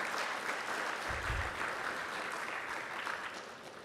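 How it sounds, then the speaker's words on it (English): Audience at a public meeting on Don Mouth and Port Lands flood protection applauds steadily, a dense, sustained wash of clapping that stays even throughout and thins slightly at the end. "can I just ask everybody to give a round of applause for Nicole Swearhorn and her tremendous work"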